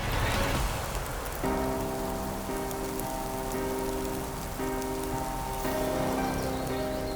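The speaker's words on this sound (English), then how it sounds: "Where'd this rain come from?" Steady rain patters on a surface, dense and continuous, with a faint tonal hum running underneath.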